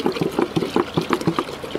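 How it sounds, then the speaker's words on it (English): Water dumped into a self-priming pump that hasn't run in a while, priming it for an aquaponics fish-waste setup; a steady, gurgling splashing pour with uneven bubbly pulses throughout. "I could do probably easier if I dump some water in there"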